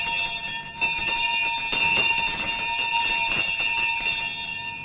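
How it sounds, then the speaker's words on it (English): Many house bells jangle together at once in a dense, continuous clamor, bright overlapping strokes filling the space with no voices. "Every bell in the house was ringing."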